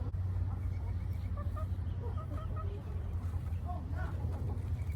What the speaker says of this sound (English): Oh, they got turkeys too.